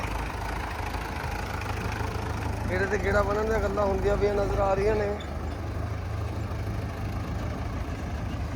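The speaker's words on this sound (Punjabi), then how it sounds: "ਸੋ ਟਰੈਕਟਰ ਫੇਰ ਦੁਬਾਰੇ ਆਇਆ" A tractor engine runs steadily throughout with a low, constant rumble and drone, fairly close, while someone talks over it partway through.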